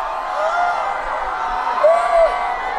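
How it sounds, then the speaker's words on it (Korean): Crowd cheering at a Dong-A University festival concert, a sustained roar of voices with rising whoops, loud and close, music faint beneath. "자, 동아대 함성!"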